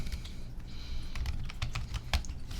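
Typing on a computer keyboard while entering a formula in an Excel spreadsheet, a quick run of close, crisp key clicks with one louder tap near the end, alone with no talk.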